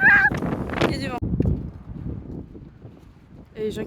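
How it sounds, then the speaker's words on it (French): Wind rumbles against the microphone in Boston beneath a person talking, with low gusty noise filling the pauses. "Il y a du vent."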